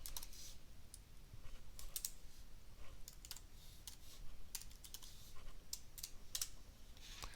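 Typing on a computer keyboard, a quiet, steady run of close key clicks in irregular bursts and pauses, heard alone.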